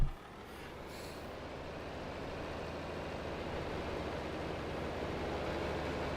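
A vintage tractor with a hotted-up engine pulling a plow in Farming Simulator 25, a steady low engine rumble and drone that holds at a constant level after a brief initial burst.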